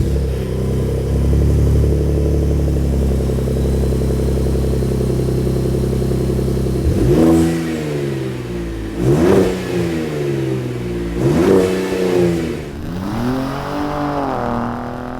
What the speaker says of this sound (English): we got our Flowmaster muffler upgrade installed on our 2017 Raptor